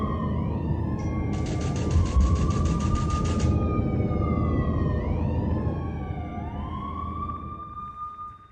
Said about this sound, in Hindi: सायरन की आवाज लगातार बज रही है